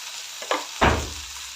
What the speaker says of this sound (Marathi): मिक्स करून घेते हळद घालून हळद आणि मीठ घालून कांदा आणि टोमॅटो चांगले भाजलेले आहेत